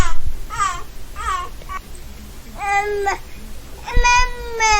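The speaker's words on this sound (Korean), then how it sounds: "옹알이는 혀나 후두와 같은 구강 조음기관을 조절하여 명확한 소리를 내기 시작합니다." An infant babbles in short, sing-song vowel and consonant bursts separated by brief pauses, close and clear, with a slightly whiny, cry-like edge on a couple of the sounds.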